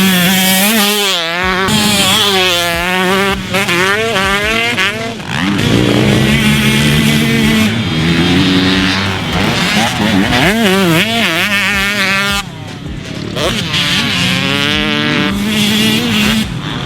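Husqvarna TC125 two-stroke motocross bike ridden hard on a dirt track, its high-pitched ringing engine revving up and down through repeated throttle bursts and gear changes, loud and close throughout with brief dips between pulls.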